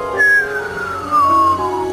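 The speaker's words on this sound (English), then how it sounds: "This is a strange kind of signal called a whistler." A whistler radio signal from lightning, transformed by the Earth's atmosphere, sweeps downward in pitch like a long falling whistle over a hissing static background, heard twice in close succession.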